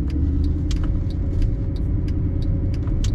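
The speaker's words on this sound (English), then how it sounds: "I'm gonna do a U-turn here in the middle of this intersection." A 2011 Mercedes-Benz SLS AMG idling through a U-turn in the middle of an intersection gives a deep, steady engine rumble, overlaid by light, regular ticking from the turn signal.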